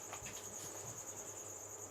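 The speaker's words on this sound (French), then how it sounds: "on peut voir qu'il y a des grillons qui se mettent dans les alvéoles" Crickets chirp steadily and continuously in a close indoor setting, a bright sustained trill with faint handling noises beneath, and no one speaking.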